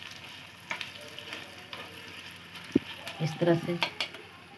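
Tempering spices sizzling and crackling in hot oil for sambar, a steady frying hiss with a sharp knock and stirring noises, under brief speech.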